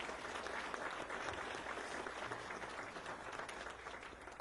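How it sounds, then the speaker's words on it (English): A seated audience at a Memorial Day breakfast gives a sustained round of applause for an honored veteran, steady and dense clapping filling the room throughout without a break. "Sir, please stand and receive a well-deserved round of applause"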